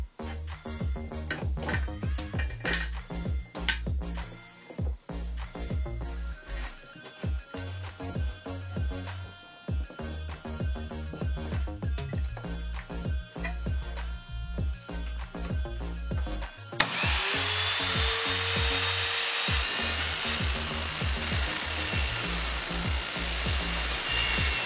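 An Evolution R210SMS+ radial miter saw cutting metal drywall rail: repeated rasping, rhythmic strokes with a ringing metallic whine, then the blade bites in with a loud, steady, bright screech that carries on to the end.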